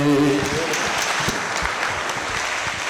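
An audience at a state-level literary conference claps in sustained, dense applause that fills the hall. A brief tonal voice trails off at the very start.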